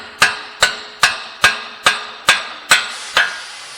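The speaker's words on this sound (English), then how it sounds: "Now we're going to take a hammer." Eight sharp, ringing metallic blows land at a steady pace as a hammer knocks the front CV axle out of the hub of a 2008 Toyota Highlander, each strike close and loud with a short decay.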